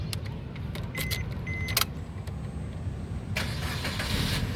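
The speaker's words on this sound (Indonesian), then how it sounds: "coba kita nyalakan dulu mobilnya" A 2013 Suzuki Ertiga 1.4 GL manual car starting: key jingle and cranking, then the engine catches and settles into a smooth, steady idle, close and alone.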